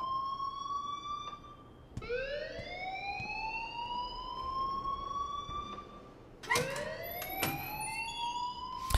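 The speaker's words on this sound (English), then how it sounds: "please turn off that alarm since that's your job" An alarm in the Life is Strange video game wails in rising electronic sweeps, one long climbing tone followed by a second that starts abruptly after a brief dip, loud and steady with no voices.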